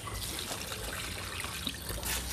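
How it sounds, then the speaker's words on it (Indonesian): Liquid organic fertilizer made from moringa leaves poured onto a large ambarella tree, a steady soft trickle and splash of liquid running continuously. "Ini akan saya siram menggunakan pupuk organik cair dari daun"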